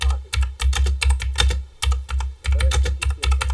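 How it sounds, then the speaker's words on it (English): A very clicky computer keyboard clatters under fast, steady typing, with dense bursts of sharp key clicks and brief pauses between runs, close and loud. "It's a very clicky keyboard."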